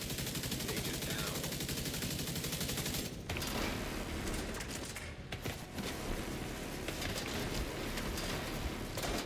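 Rapid bursts of video game gunfire rattle almost continuously in a close, dense fusillade, with brief pauses between volleys.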